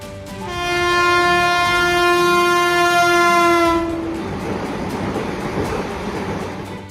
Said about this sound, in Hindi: जम्मू कश्मीर के लिए तैयार की गई वंदे भारत ट्रेन ने अपना पहला ट्रायल रन सफलतापूर्वक पूरा कर लिया है।